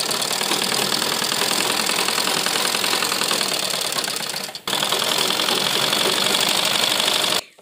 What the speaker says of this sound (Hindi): उसके बाद हम इसमें सिलाई लगा देंगे।